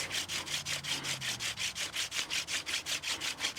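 Metal being ground down by hand makes a fast, even back-and-forth scraping rasp, around sixteen strokes in a steady rhythm, close up and fairly quiet with no voices.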